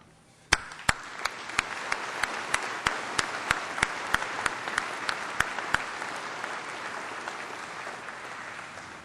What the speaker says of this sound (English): as we applaud these people who will be, in fact, assisting me this afternoon